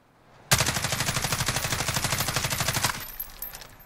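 Rapid automatic fire from an HK G36C rifle in Call of Duty Modern Warfare: one loud, sustained burst of evenly spaced shots lasting about two and a half seconds, then a brief fading tail.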